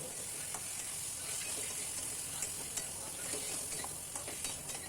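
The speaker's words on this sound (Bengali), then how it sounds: "আবার এটা কষিয়ে নিলাম।" Spice paste for mutton curry with potatoes stir-fried once more, a steady low sizzle with light, irregular spatula scrapes in the pan, close and quiet, no talk.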